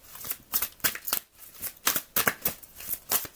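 Square oracle or tarot cards are shuffled and handled up close in a rapid series of crisp, papery slides and flicks with a brief pause midway, and no one speaks.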